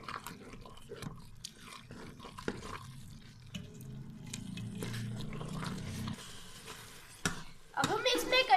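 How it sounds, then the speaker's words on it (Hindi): A mashed, dried milk mixture roasts in two spoons of ghee, giving faint sizzling, soft stirring and scraping in the pan, with a few sharper clatters toward the end. "अब हम इसमें 2 चम्मच घी डाल के अच्छे से भून लेंगे।"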